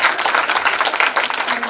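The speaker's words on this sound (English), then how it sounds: "The claps are so weak." A college audience at St Xavier's College claps during an on-stage conversation, a short burst of thin, fairly light applause with many hands patting quickly and unevenly.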